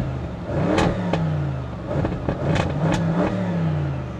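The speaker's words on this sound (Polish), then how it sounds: "Odpalamy ten samochód." A 2016 Audi RS6 C7 Performance rated at 605 hp fires up and is blipped several times, each sharp rev of the engine rising and falling quickly, loud and close with short idle gaps between them.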